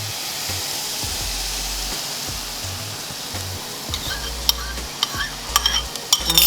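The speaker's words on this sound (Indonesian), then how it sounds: "Kita aduk-aduk sampai dia tuh agak setengah matang, baru kita aduk ke semuanya" Beaten eggs and cauliflower rice for keto fried rice stirred in a pan over a steady hiss of sizzling, with light utensil clicks and scrapes growing more frequent toward the end, close-up and without speech.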